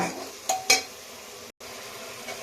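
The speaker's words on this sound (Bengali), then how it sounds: "অল্প একটু জল দিয়ে দিচ্ছি যেটাকে ভালো করে কষিয়ে নেব" Spiced food being stirred and sautéed in a pot with a little water, giving a steady soft sizzle with a couple of sharp spoon scrapes and clinks against the pot, close and without talking.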